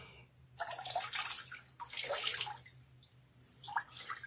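Cold tap water runs in bursts for a face rinse in a bathroom, splashing close by in three separate pulses with brief pauses between them, over a low steady hum.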